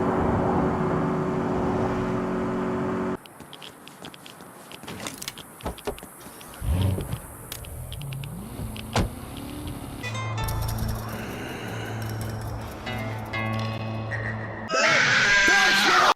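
A car drives in the video game Saints Row, with engine hum, mechanical clunks and brief impacts shifting through the run, and a sharper burst of noise at the end.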